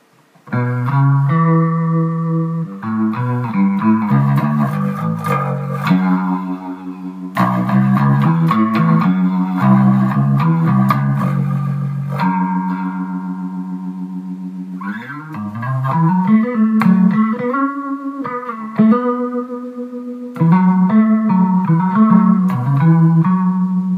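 Bass riff played through a Leslie rotary speaker pedal at fast speed, notes shimmering with a quick wobble, sustained and plucked phrases across the passage without speech.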